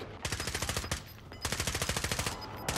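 Rapid bursts of automatic gunfire from a video game, loud and close, firing in quick rhythmic volleys with a short pause between two long strings of shots.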